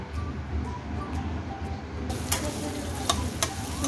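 Ingredients fry in a pan over a medium flame for a dhaba-style matar paneer, a continuous low sizzle broken by a few sharp scraping clicks as they are stirred.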